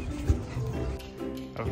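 A pet dog whimpers and gives a few soft yips close by at home, mixed with background household noise and low voices.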